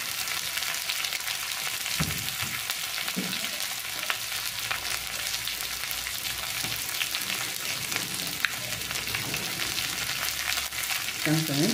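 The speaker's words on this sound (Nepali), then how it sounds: "त्यसलाई एकछिन भुटिदिने" Spices with coriander powder, cumin powder, red chili and gram flour fry and sizzle steadily in a pan, close and continuous, with a few soft stirring scrapes and clinks.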